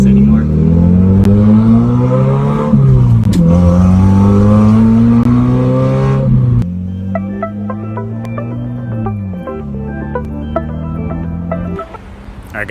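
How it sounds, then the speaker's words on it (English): A car engine revs hard with a loud, raspy exhaust, pitch rising and falling through several throttle pulls before settling into a rough, burbling idle. "so I can get my exhaust put on so it won't sound crazy like this anymore"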